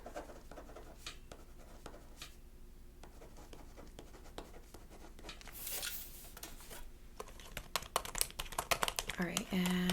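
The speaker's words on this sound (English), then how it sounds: "I just need to write it down for my paper report." Handwriting on paper at an insurance call center desk, soft scratchy pen strokes in short close bursts, with occasional keyboard taps mixed in and denser clicking near the end, with no talking.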